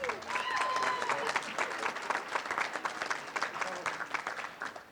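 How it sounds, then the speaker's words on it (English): A room at a national and international awards ceremony breaks into steady applause for a Tidy Towns committee member, a dense wash of clapping with faint voices and whoops underneath. "a big round of applause for him"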